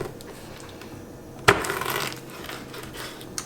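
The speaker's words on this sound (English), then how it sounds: "We'll take a knife and just cut it in half here." A knife chops through a rack of pork spare ribs, cutting it in half with one sharp crack against the board, followed by a short scraping rasp and quiet handling.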